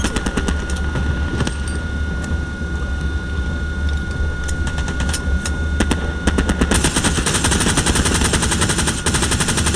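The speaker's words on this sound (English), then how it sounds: "Load them up, shoot them with the machine gun." Sustained automatic machine-gun fire in the Hell Let Loose World War II shooter, rapid continuous bursts close up with distant battlefield rumble, growing louder and denser toward the end.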